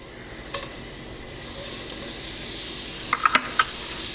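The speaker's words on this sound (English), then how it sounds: "Let's add some butter in there." Butter melting in a preheated, warm pan while risotto is started, giving a steady soft sizzle with a few brief sharper crackles and utensil taps near the end.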